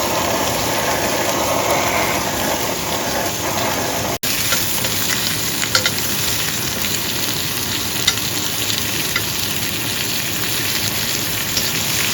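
A sous vide picanha steak sears on a hot surface, giving a steady, loud, dense sizzle that runs unbroken for the whole stretch, with a few small pops and no voices.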